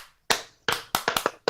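A small group claps along in a rhythmic run of sharp, close hand claps, two spaced claps followed by a quicker burst of four, with no talking.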